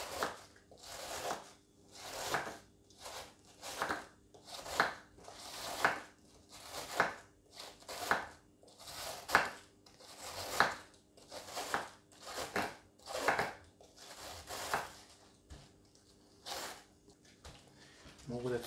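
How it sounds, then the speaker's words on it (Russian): A hand-held cabbage knife slices through a large head of cabbage in about fifteen regular, crunchy strokes, each a close, bright rasp separated by brief pauses, with no talk over the cutting. "Удобнее, чтобы было нарезать капусту, если большой вилок нужно разделить на две части."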